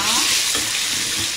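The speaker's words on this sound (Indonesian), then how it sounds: "Macam biasa lepas masukkan bawang ni, kita masukkan garam, sikit garam. Okey, kacau." Onions with a little salt being stirred in a frying pan for fish curry, a steady close sizzle with soft spoon scrapes running through, no talking.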